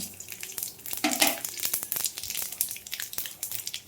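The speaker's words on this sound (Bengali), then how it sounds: "জিরেটা সুন্দর করে ভেজে নেব।" Cumin seeds and bay leaves frying in hot oil in a kadai make lively, crackling spatters and pops over a steady sizzle, close and fairly loud.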